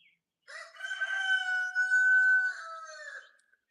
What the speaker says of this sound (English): the chickens have some kind of reaction to something and start making so much noise we can't even sit here and think